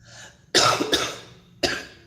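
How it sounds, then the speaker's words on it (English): A coughing fit during a live tarot reading: a harsh burst of two quick, loud, close coughs, a short pause, then one more cough. "just had a bit of a coughing fit"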